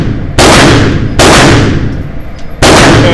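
Three sharp 9mm gunshots from a Smith & Wesson M&P Shield pistol at a shooting range, spaced unevenly, each a loud close crack followed by a decaying echo.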